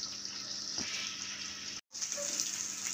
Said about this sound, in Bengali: আমি ভালোভাবে ডিমটাকে ভেজে নিব